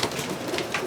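Pigeons cooing softly close by in a short burst of low, throaty calls.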